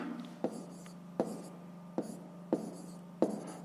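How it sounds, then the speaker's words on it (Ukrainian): A pen writes numbers by hand for a fifth-grade fractions exercise, tapping and scratching in short, separate strokes about every second, close and quiet against a faint background hum. "Давайте напишемо тут."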